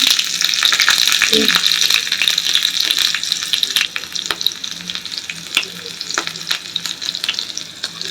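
Green chili dropped into a sizzling cumin tempering in hot oil, a bright, steady hiss with scattered sharp pops and a brief stir near the start, close and loud without talk.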